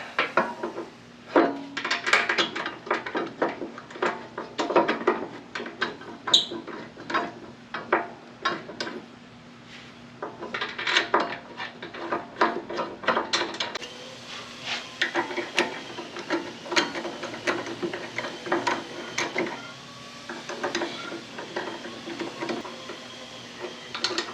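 A ratchet tightens the caliper mounting bolts on a Harley-Davidson touring front brake in a garage, giving long runs of quick, close, light metallic clicks with short pauses and no talking.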